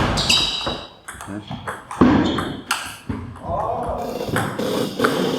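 Table tennis ball struck back and forth in a rally during a ping-pong game, sharp light pings repeating irregularly amid the players' speech and laughter.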